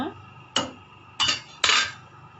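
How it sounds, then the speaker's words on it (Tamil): Three sharp metallic clanks in quick succession as a metal plate is set as a lid onto a pot of fish curry, each ringing briefly before fading. "தட்டு போட்டு மூடிக்கலாம்"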